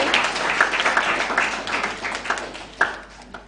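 Audience at the All Kenyan Moot Court Competition gives scattered, moderate applause for an award winner, with irregular claps from a modest crowd indoors, fading toward the end with a final louder clap.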